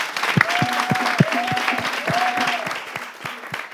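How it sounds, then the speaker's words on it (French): Steady applause from a crowd continues throughout, with rhythmic thumping music and a few faint tones playing underneath. "Merci encore une fois de faire un tonnerre d'applaudissements pour Bebeto Cyril et tous les candidats."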